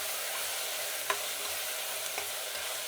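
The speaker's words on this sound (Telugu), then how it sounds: "ఇది కొంచెంసేపు వేగిన తర్వాత టమోటా అండి, అలాగే పుదీనా కూడా వేసేస్తున్నాను." Tomato and mint frying in a pan, a steady close hiss of sizzling oil throughout with a couple of faint spoon taps, no voices.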